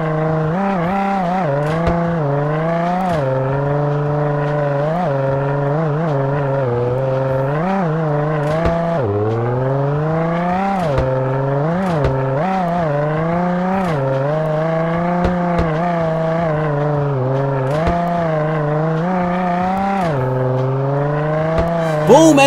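A Ford Raptor 6x6 races around a mountain off-road track in Roblox Car Dealership Tycoon, its engine droning and revving continuously with repeated rises and falls in pitch as it accelerates and shifts, loud and close throughout.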